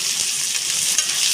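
Garlic and ginger paste being stirred as it fries in a pan, a steady close hiss of sizzling oil with faint scraping of the spoon, continuous and without talk.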